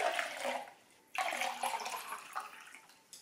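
Water pouring into a cup to make a paw cast mold, two bursts of splashing liquid with a brief pause between, close and moderately loud, no talking.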